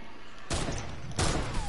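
Sniper rifle fire in a video game: two loud, sharp cracks about seven tenths of a second apart, each followed by a lingering rumbling tail, with no talk over them.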